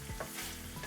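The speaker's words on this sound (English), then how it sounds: "that is now frying in its own fat" Pork sizzles steadily in its own rendered fat in a stir-fry pan with cumin, coriander and scallions, giving a close, continuous crackling hiss with no voices.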